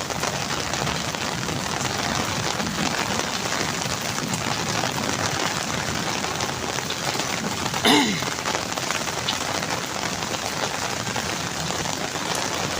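Heavy rain pours steadily in a Pakistani village, a dense, even hiss of drops on surfaces lasting throughout, with one brief sharper sound partway through.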